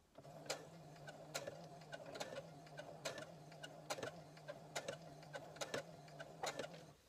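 A home sewing machine stitches in reverse for a short backstitch, giving a steady mechanical hum with sharp regular ticks of the needle over about seven seconds, close and fairly quiet.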